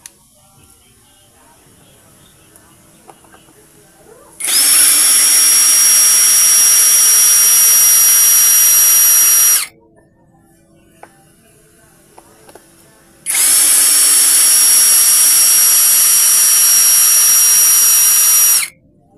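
A Keelat cordless drill whines loudly at high speed while backing out a screw, two sustained bursts of several seconds each separated by a short quiet pause.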